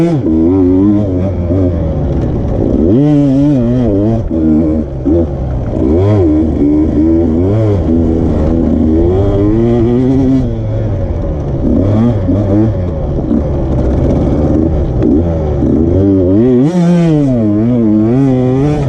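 A 2020 KTM 150 XC-W two-stroke dirt bike at Rivers Edge revs loud and close, its engine note climbing and falling continuously as it shifts and accelerates, with no pauses.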